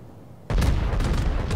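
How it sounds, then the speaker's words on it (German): A battleship fires in the World of Warships naval game, with a sudden loud booming blast after a quiet moment and a rumbling roll that carries on to the end. "wenn ein Battleship auf die schießt"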